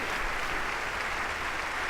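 An audience at a State of the Union address claps in a dense, steady burst of applause that holds at an even level from start to finish.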